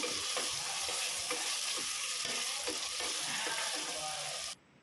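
A pan of tomato and spice masala for mint pulao sizzles steadily while being stirred, with soft scraping strokes over a continuous frying hiss that cuts off abruptly near the end.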